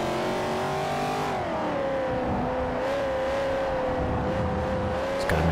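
Racing-car engines from Forza Motorsport 4, with Chevrolet Corvettes including a ZR1, drone steadily at high revs with a shifting pitch as cars run close together, loud and continuous, with tire noise underneath.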